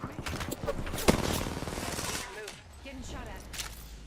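Bursts of video game gunfire crackle through a busy, dense mix, with a sharp loud shot standing out near the start and scattered shots continuing under an ongoing game soundtrack.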